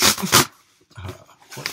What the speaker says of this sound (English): that sound you hear of shredding in the background is my little dog